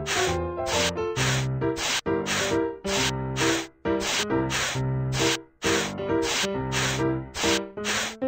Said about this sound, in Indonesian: Semprotkan cat ke rangka baja agar tidak mudah berkarat.